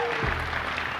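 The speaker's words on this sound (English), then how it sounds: "You can clap if you'd like" Brief burst of scattered audience clapping during a Borderlands 3 gameplay demo presentation, a short moderate patter lasting about a second.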